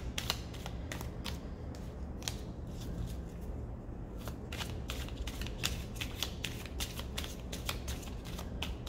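Small tarot cards shuffled by hand in a steady run of quick, crisp riffling flicks, close and fairly quiet over a low background hum, with no talking.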